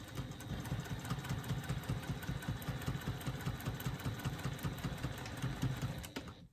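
A sewing machine stitches a bag lining seam, including back stitching, in a fast, steady mechanical chatter of needle strokes heard close up, which winds down and stops at the end.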